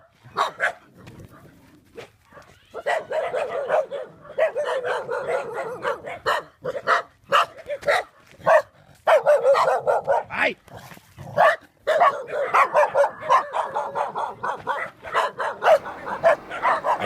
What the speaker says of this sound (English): I turned around and walked back and came across a pack of dogs.